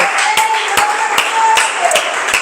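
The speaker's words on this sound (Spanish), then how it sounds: "Da un aplauso al Señor" Close, loud rhythmic handclapping from a church congregation praising God, evenly spaced sharp claps over a busy background with a faint voice mixed in.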